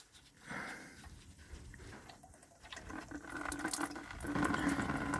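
Fuel filter on a Holden Colorado draining, a steady soft trickle of liquid running out close by, gradually growing a little louder and splashier toward the end.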